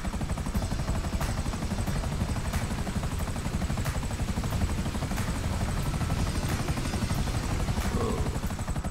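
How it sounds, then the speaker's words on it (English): Helicopter in the video game GTA 5 setting down for a landing, a steady close rotor and engine drone with rhythmic blade chop running throughout, loud and alone with no talk. "Go ahead and land our helicopter right here."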